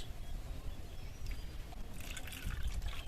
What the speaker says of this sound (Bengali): জল দিয়ে মিশিয়ে নেব।